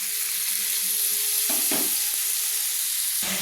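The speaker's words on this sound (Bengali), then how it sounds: "দিয়ে আমি মশলার সঙ্গে ভালো করে শিমের বিচিগুলো আমি কষিয়ে নিচ্ছি" Broad bean seeds frying with spices in a pan: a steady close sizzle runs throughout, with a few brief stirring scrapes in the middle and near the end.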